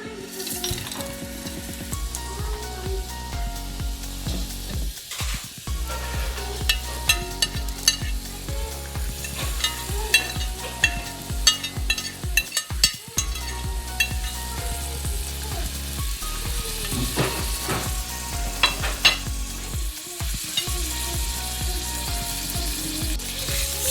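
Onion, thyme and whole spices frying in organic coconut oil for a chicken curry: a continuous loud sizzle broken by repeated scraping and clicking stirs of a utensil against the pan.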